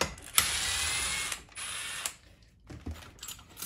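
A ratchet loosens a drive bolt while a K-series cylinder head is taken apart: bursts of quick metallic clicking separated by short pauses, close and fairly quiet.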